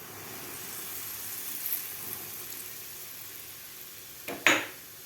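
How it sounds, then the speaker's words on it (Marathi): Spoon stirring hot oil into maida flour with a little semolina in a bowl, a faint soft sizzle and scraping, ending in a couple of sharp clinks of the spoon against the bowl, close and alone. "आता आपल्याला व्यवस्थित चमच्यानं हलवून घ्यायचं आहे तेल गरम आहे"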